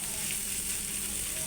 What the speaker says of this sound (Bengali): শুটকিটা ভাজা হচ্ছে